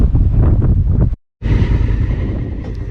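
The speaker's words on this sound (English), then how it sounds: "bloody windy" Heavy wind buffeting the microphone in loud low rumbling gusts, broken by a brief moment of silence before the roar resumes.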